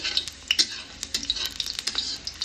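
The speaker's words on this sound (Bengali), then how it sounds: "তো পেঁয়াজটা হালকা বাদামি করে ভেজে নিতে হবে" Onions sizzle and fry in a pan for fried rice, a soft steady crackle heard close up with light stirring scrapes and occasional sharper spits.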